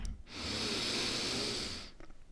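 Single slow, deep inhalation through the nose during a guided sophrology relaxation exercise, a soft, close breathy hiss lasting under two seconds.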